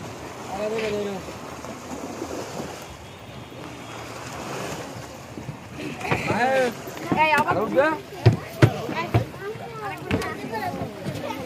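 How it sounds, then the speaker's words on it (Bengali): A speedboat comes in to moor on a river amid lapping waves and gusting wind noise, while people talk over the rising engine and splashing water. "দেখেন স্পিড বোট আসে ভিড়ছে,"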